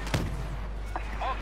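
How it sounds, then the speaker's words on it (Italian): A single heavy booming cannon shot in Star Wars Battlefront on PS4, followed by faint electronic effects and muffled in-game sounds. "Questo cannone, perché non fa più danno?"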